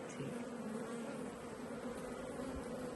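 Bees buzz in a steady, continuous drone around a lightly smoked hive, the hum close and even throughout with no voices.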